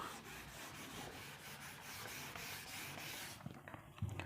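Writing is rubbed off a board during a data structures lesson, a faint, steady scratchy rubbing that continues evenly and ends with a few light knocks.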